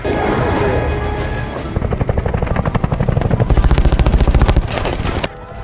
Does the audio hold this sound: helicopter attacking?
yes